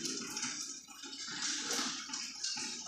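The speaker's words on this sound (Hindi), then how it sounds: "उसके अंदर हमने खुला पानी जो है ना डाल देना" Water poured into a bowl of soaking basil seeds (tukhm malanga) while making sabudana kheer, a steady splashing pour that runs throughout at moderate level, with no talking.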